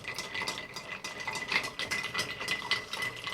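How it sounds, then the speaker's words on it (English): Ice cubes clink and rattle against a mixing glass as a bar spoon stirs a Calvados and Amaretto cocktail, a close, quick, continuous jingle of light tinkling taps. "And let's give this a stir."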